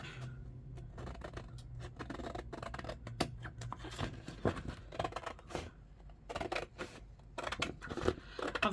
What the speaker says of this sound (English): let's use the big scissors.